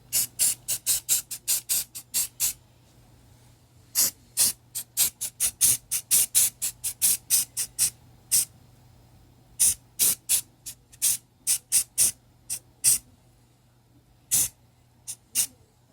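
Rust-Oleum Painter's Touch 2X Ultra Cover flat white primer sprayed from a can onto small pieces for hydro dipping: a long series of short sharp hissing bursts, evenly spaced with a few pauses, close and clear.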